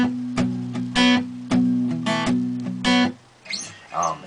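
A capoed acoustic guitar strummed with palm muting gives short, choppy chord bursts in a quick pattern, close and fairly loud. A few seconds of bright picked notes follow near the end.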